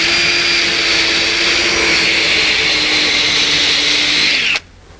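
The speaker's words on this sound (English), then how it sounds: "We're going to pre-drill the holes to mount the hanger bolts to the door." A loud, steady power drill whirs continuously at high speed, pre-drilling holes in a barn door for hanger bolts, close by, then cuts off abruptly near the end.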